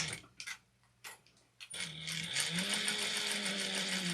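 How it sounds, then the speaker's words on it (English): Sewing machine back stitching a two-toned snack bag, starting after a few short taps and clicks, then running in a steady, close, continuous mechanical whir to the end. "we're going to go 1/4 of an inch back stitch in the beginning and end"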